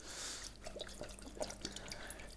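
White wine vinegar pours into a pickling mix of vinegar, sugar and water, a light dripping, splashing trickle with small irregular plinks close by.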